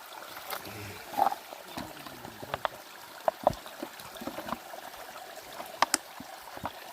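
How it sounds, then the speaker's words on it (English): Water trickles and splashes in a small Appalachian mountain stream as it is collected, with irregular close splashes and gurgles over a steady low flow. "I'm videoing me getting water."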